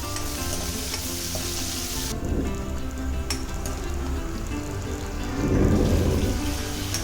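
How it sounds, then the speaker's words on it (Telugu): Sliced onions and green chillies fry in a pan for a village-style dried fish and brinjal curry, a loud, continuous close sizzle broken by stirring scrapes, swelling louder toward the end. "ఈ ఉల్లిపాయ ముక్కలు పచ్చిమిరపకాయ ముక్కలు కూడా కొంచెం సేపు ఫ్రై ఇవ్వాలండి"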